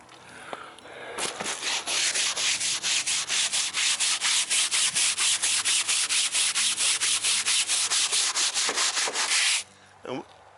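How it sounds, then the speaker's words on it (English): Canopies are scrubbed with soap and water using a brush, giving a close, loud run of rapid rhythmic back-and-forth rubbing strokes for about eight seconds, alone, then stopping abruptly. "thick them out with a bit of soap like that, all round them. Okay, and that'll just have an extra good old scrub."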